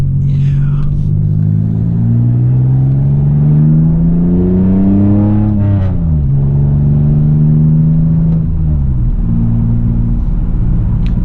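A 2002 Pontiac Firebird V6 with a manual gearbox revs loud and close from inside the car on a backroad drive, the engine note climbing raspily, dropping at a shift, then rising again.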